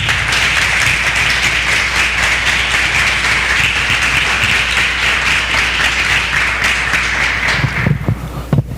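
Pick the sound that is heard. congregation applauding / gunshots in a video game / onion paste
congregation applauding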